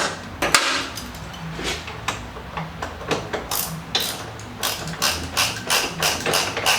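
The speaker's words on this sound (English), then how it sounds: "Now the shock may require some convincing to go inside. There's just a couple taps and then it seats." A motorcycle rear shock for an air-ride suspension on an M8 Softail is tapped into its mount, giving a rapid series of sharp metallic knocks and clanks, close and loud, with uneven rhythm and no talking.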